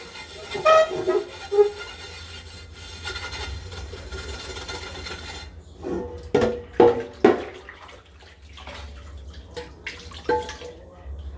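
A big copper pan is rinsed under a running kitchen tap: a soft stream of water with intermittent louder splashes and drips as the pan is moved about, with a voice speaking now and then.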